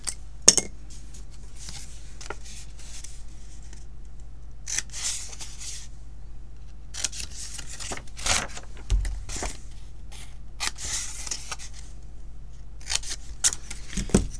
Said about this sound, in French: 4 coups de ciseaux.